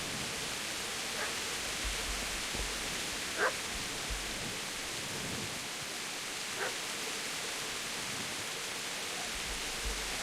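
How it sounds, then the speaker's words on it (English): Distant, faint dog barks ring out a few times, sparse and spaced apart, over a steady hiss of ambient noise in the medieval game Kingdom Come: Deliverance. "I hear like a dog barking."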